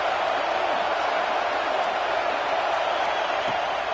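A stadium crowd at a college football video game gives off a steady, dense roar that holds at an even level throughout, with no distinct cheers or voices standing out.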